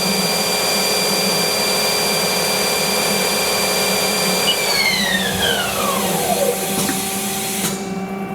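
Haas ST-10Y CNC turning lathe spindle spinning at speed, a steady high whine that drops smoothly in pitch as the spindle winds down, over a constant machine hum.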